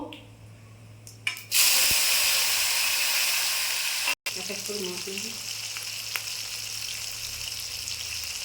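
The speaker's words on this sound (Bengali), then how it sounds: "দুটো শুকনো লঙ্কা দিলাম আর এই যে জিরে দিয়ে দিলাম ফোড়নে দিয়ে এই যে টমেটো দিলাম দুটো" Tomatoes, dried red chillies and cumin seeds sizzle loudly in hot oil, a sudden strong frying burst after a brief quieter start, with a short break then a steady continuing sizzle and faint stirring.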